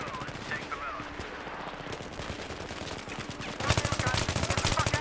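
Rapid automatic gunfire in Battlefield 3, heard as dense bursts of shots that grow louder and more intense in the final second and a half.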